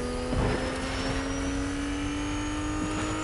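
A steady car engine hums throughout, a low drone with a constant high whine, like a vehicle cruising in a video game.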